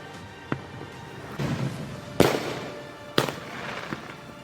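Diwali fireworks and firecrackers going off in Naxal-affected Dantewada: three sharp, loud bangs spaced about a second apart stand out over a continuous bed of distant crackling and popping.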